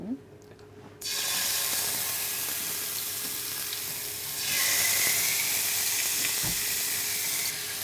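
Food frying in oil over a low flame, with a sudden onset of loud, steady sizzling hiss that swells partway through and then holds, close by, with no talking.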